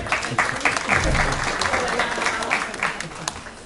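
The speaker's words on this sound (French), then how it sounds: "Applaudissez pour elle, s'il vous plaît." An audience at an association event claps for its local representative, a brisk crowd applause sustained throughout with a few louder individual claps standing out near the front.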